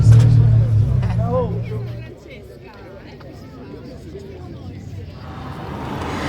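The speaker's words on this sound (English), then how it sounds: "waiting for a few more cars to come up" Classic cars idling and rolling up to the finish line of a road race in Piazza Mino, Fiesole, a low engine rumble near at first that fades under steady crowd chatter.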